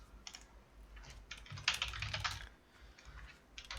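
Typing on a computer keyboard in a Linux terminal while starting the vi editor: a short burst of quick, close key clicks followed by a firmer press of the Enter key, with sparse taps after, and no talking.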